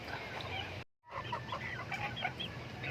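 Hungry chickens and ducks on a farm cluck and call steadily at close range, a busy overlapping flock chatter broken by one brief silent gap, with no voices.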